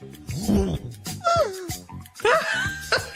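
Dog whimpering in short, high, wavering whines and yips, close and fairly loud, mixed with low growly sounds and what seems to be speech.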